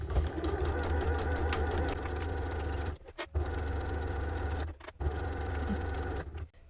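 A sewing machine runs steadily, stitching fabric gift wrap at close range, its motor humming with a fast mechanical rattle, pausing briefly twice before starting again.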